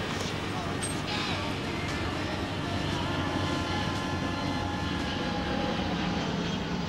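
An American Airlines plane from Chicago passes overhead, a continuous distant engine rumble heard outdoors, with voices speaking beneath it.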